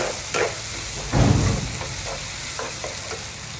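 Chopped onions fry in a pan with a continuous sizzle, broken by a few scraping stirs, one louder clatter of the spoon against the pan, and no speech.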